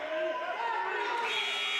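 A sustained electronic buzzer sounds at a high school wrestling triangular in Groton, ringing out over crowd chatter for nearly two seconds.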